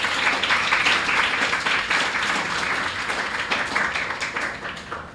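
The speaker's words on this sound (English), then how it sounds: "And I think we should give them a round of applause." An audience at a literary festival gives a steady round of applause, many hands clapping densely and evenly at moderate distance, slowly thinning toward the end.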